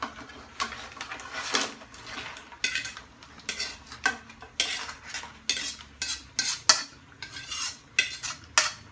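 Pre-boiled crab and corn being tossed in a pot with garlic butter, with repeated rhythmic clanks and scrapes of a utensil against the metal over a faint sizzle.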